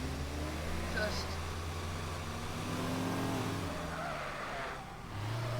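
Car sliding without the handbrake in the Teardown video game, a steady engine drone with tire skid noise running throughout, heard under talking.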